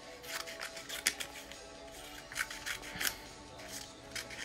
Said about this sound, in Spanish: Yo voy a cortar los papeles que faltaron,